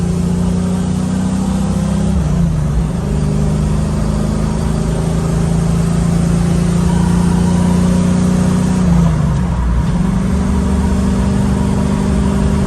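A 1969 Camaro with new gears and a T56 manual transmission drives on a road test, its mid-pitched engine droning steadily from inside the cabin, with a brief dip and shift in tone partway through.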